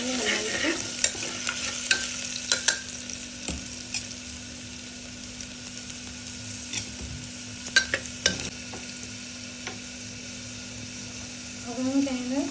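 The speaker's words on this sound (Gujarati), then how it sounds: "આપણી જે ડુંગળી છે એ બ્રાઉન થાય ત્યાં સુધી હલાવીશું" Onion and rice frying in a pan for masala khichdi, stirred with a spoon: a soft steady sizzle with irregular scraping clicks of the spoon against the pan, fairly quiet and close.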